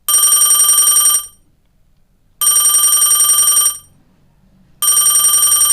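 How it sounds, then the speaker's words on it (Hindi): A telephone bell rings loud and close in long electronic bursts of a little over a second each, three rings separated by full silence. "फोन की घंटी बज रही थी।"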